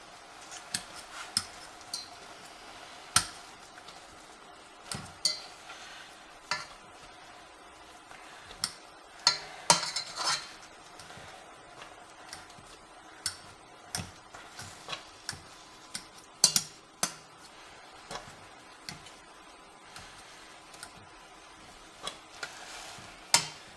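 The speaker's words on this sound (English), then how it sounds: "Then you should start mashing it up a little with a fork so that it can cook faster" Fork mashing rice pudding in a cooking pot: scattered soft taps and scrapes of metal against the pot, irregular and fairly quiet over a faint simmering background, with no voices.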